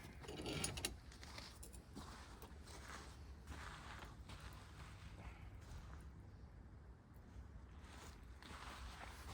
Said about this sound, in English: And the wrench.